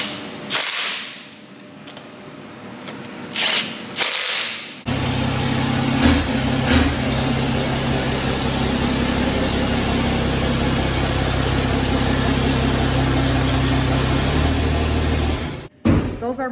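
A Cummins diesel engine idling with only a downpipe on the turbo and no exhaust system, a loud, steady rumbling drone for about eleven seconds after a few brief clattering noises at the start.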